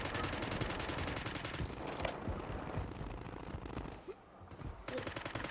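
Dense, continuous automatic gunfire in Call of Duty: Modern Warfare 3 battle royale, rapid rattling bursts filling the whole stretch with a brief dip near the end before firing resumes.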